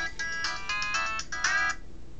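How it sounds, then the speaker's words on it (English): Electronic phone ringtone sounding in repeated melodic bursts, fairly loud and close, stopping abruptly after about a second and a half with no talk over it. "Phone call here."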